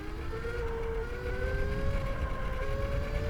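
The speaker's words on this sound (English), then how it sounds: "if you're just cruising along like this and you whack the throttle" An Alpha Pro vehicle with a tuned setup accelerates hard at full throttle, a loud continuous engine whine that rises steadily in pitch throughout, with wind noise and no speech.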